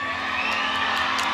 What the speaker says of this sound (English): You have a full crowd on both sides.